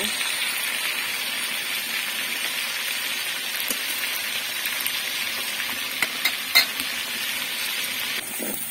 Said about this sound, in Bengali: এখানে হচ্ছে মাংসটা ভাজতেছি